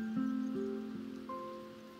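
Rain falls in the anime-style game Tower of Fantasy, a steady soft hiss of drops running underneath sustained musical tones, moderately loud and continuous throughout.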